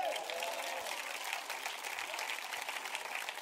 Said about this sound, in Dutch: Geef de Heer een applaus.